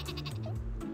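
A cartoonish sheep bleats once in a short wavering burst, loud and close, from the sheep weapon in the Worms video game.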